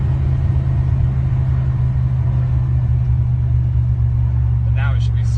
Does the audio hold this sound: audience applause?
no